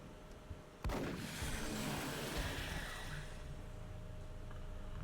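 A shotgun fires in the XCOM video game: a single loud, sharp blast followed by a long rumbling decay, with no talking over it.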